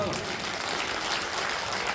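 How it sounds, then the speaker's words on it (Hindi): Dense clapping from a crowd at an outdoor Bhagavat Katha religious gathering, sustained and even across the whole moment, loud and close with a busy, noisy wash. "ताली बजाना"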